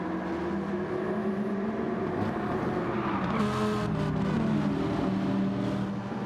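Several race cars barrel down into a corner, engines droning and shifting pitch as they brake and power through, a steady mechanical roar without voices.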